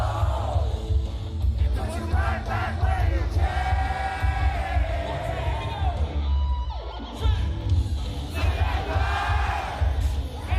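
Loud crowd at Sonic Expo cheers, whoops and yells in sustained bursts over booming music, a dense roar from a packed convention audience.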